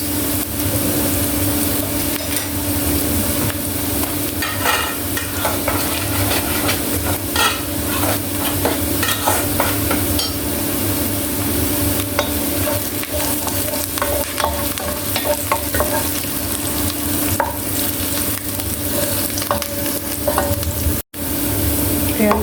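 Corn kernels sizzle and fry in a pan with garlic and onion, a steady loud crackle broken by repeated scraping strokes of a spatula, continuous and close with no talking.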